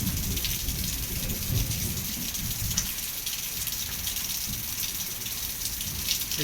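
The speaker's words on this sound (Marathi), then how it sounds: "खूप जोरात विजा चमकत आहेत ढगांचा देखील गडगडाट सुरू आहे" Steady heavy monsoon rain in Beed district, India, hisses loudly while low thunder rumbles underneath, with no voices.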